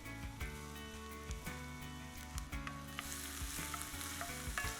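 Onion and garlic frying in oil for an Ethiopian stew, a loud continuous sizzle with crackling spits and stirring scrapes, heard close up and alone.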